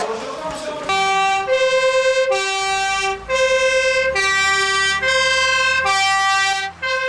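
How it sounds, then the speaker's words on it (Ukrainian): A loud fire engine siren blares in long, sustained wailing tones that cycle between pitches, close by and dominating. "Для Наталії Батир сирена означає виклик на подію попри ненормований робочий день"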